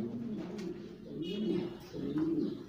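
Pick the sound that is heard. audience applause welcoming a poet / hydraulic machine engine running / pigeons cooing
pigeons cooing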